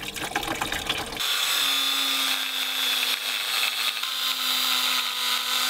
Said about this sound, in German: ein neues Werkzeug, ein Flex